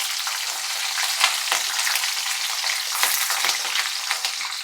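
Green chillies and garlic fry in oil for lemon chitranna, a lively close sizzle with scattered sharp crackles and pops throughout.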